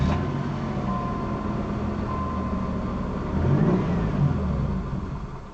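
A 1990 Chrysler Town & Country engine with a spark fault cranking over and over, a continuous rough churning drone close by that surges louder partway through and then fades a little at the end.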